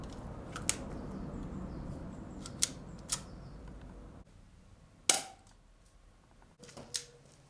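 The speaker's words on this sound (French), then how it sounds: "ceci est un airsoft qui tire du ketchup" An airsoft gun loaded with ketchup fires several sharp snapping shots, scattered and fairly close, over a steady background hiss.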